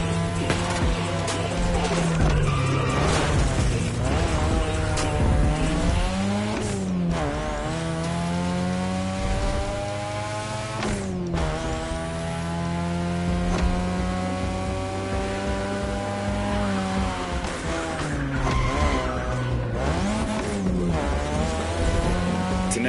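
A third-generation 2002 Mazda RX-7 with a rotary engine races and skids in The Crew Motorfest, its engine note rising and falling through repeated revs and shifts, with tire squeal over a loud, continuous drone.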